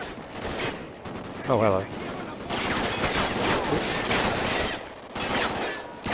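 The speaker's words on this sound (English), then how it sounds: "So I'm switching to the rifle. The lovely, lovely rifle. Time to go shoot things." Rapid rifle gunfire bursts from a Call of Duty: Ghosts battle, dense and loud throughout, with a voice speaking briefly over the shooting.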